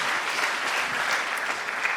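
A church congregation at an NG Kerk in Gouritsmond claps their hands in thanks, an even, lively round of applause holding at a steady level throughout, with no talking over it.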